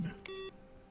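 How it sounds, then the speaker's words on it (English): One soft, short electronic beep tone sounds in the video game The Stanley Parable: Ultra Deluxe. It is faint and alone against a quiet background. "Beep beep."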